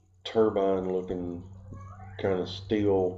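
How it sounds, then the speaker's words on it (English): Pet cats meow in a room, with two drawn-out, loud meows close by, one after the other. Someone speaks faintly under them. "I'm pretty sure you can probably hear my cats in the background."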